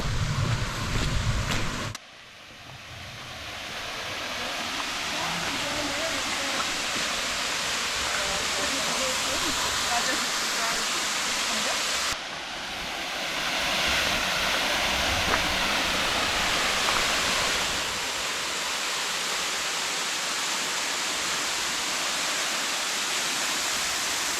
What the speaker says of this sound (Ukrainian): наближаємось до одного з перших водопадів, водоспадів.